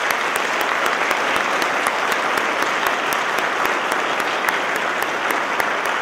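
Steady, dense applause from an evening lecture audience at Coker College fills the room, sustained at an even loudness throughout without a break.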